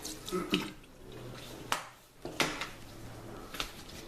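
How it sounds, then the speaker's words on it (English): A sponge being wetted under a running tap in a sink, giving a low splashing water flow broken by a few sharp knocks and clatters, close and moderately quiet, with no speech. "So with the sponge, we have to wet the sponge first"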